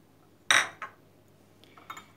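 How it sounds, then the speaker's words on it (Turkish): A spoon clinks sharply against a Turkish coffee pot as mint, thyme and honey go in: one loud knock, a softer tap, then a couple of light rattles. "Hemen şöyle bir cezvemize malzemelerimizi katıyorum"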